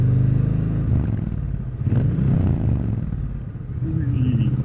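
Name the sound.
Triumph Bonneville T120 engine revving after slipping into neutral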